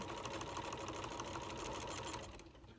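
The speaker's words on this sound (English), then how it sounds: "I can just sew a normal straight seam" A home sewing machine runs a steady straight seam through a quilt block, its rapid needle chatter continuous and close for most of the stretch before easing off near the end.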